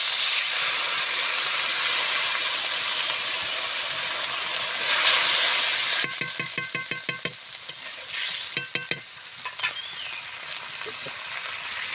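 Mung dal and spices sizzle and hiss loudly in a pan, then water goes in and the sound changes, with a series of sharp clanks and scrapes from stirring against the pan.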